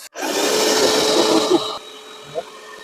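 A vacuum single-row seeder sows radish seeds in a garden bed, giving a steady close whirring hum for about a second and a half before it cuts off, followed by a few light knocks.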